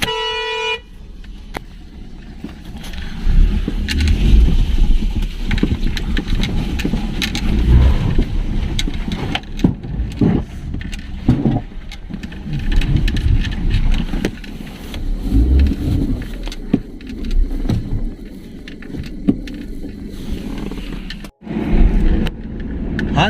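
A car drives across a badly broken road at a rough crossing, scraping underneath, with continuous engine noise, repeated bumps and thuds from the uneven surface, and a short horn toot at the start.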